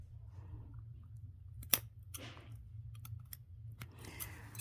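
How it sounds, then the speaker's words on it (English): Scissors cutting through folded layers of fabric while sewing a bag, a few faint, sharp snips close by over a low steady hum, with no talk. "I'm going to take my scissors and then I'm going to cut inside"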